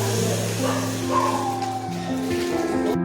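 Dogs bark and yip a few times near a house, short sharp calls mixed in with someone talking and a steady background hum.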